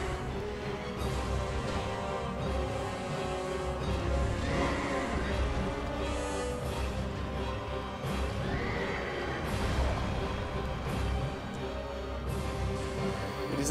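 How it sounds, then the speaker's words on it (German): Horses neigh and whinny amid hoof clatter and dense game combat noise during the Executioner's Chariot boss fight in Dark Souls 2, a steady loud mix running throughout. "Und dann müssen wir gegen die Pferde kämpfen."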